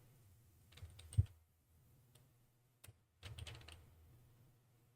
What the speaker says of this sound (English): type in Google.